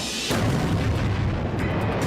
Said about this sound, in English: The rock explodes. It's what scientists call an airburst.